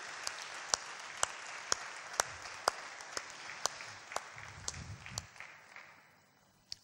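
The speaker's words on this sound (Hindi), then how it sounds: "सो एक दफा फिर हम अपने लिए ताली बजाएंगे इस कलीसिया के लिए।" A church congregation in Pakistan applauds together in a sustained, even wash of clapping, with a few sharper claps standing out at regular intervals before the applause thins and fades at the end.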